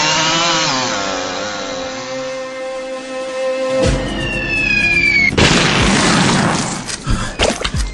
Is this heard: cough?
no